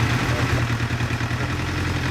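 Multi-cylinder motorcycle idling steadily after its carburetors have been balanced, a close, even, low rumbling putter with no rev changes across the short stretch.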